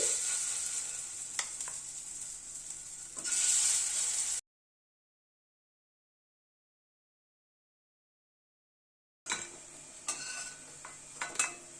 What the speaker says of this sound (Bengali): বড়াগুলোকে লাল করে ভেজে তুলে নিচ্ছি